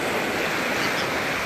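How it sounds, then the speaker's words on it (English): Gulf of Mexico waves roll onto Clearwater Beach, Florida, making a steady, close wash of surf that fills the whole clip without any talking. "So these waves, believe it or not, are bigger than our normal waves."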